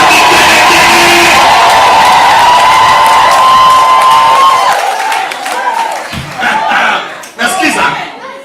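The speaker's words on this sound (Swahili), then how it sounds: "Inua hiyo mikono mshangilie Yesu kwa shangwe na vigelegele." Church congregation cheering and ululating in praise of Jesus, a loud, sustained crowd roar with high trilling cries, tapering into scattered shouts and claps near the end.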